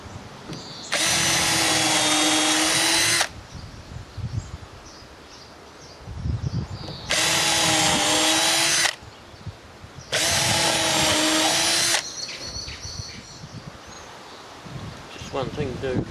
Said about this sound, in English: So we'll go ahead and drill all the pilot holes.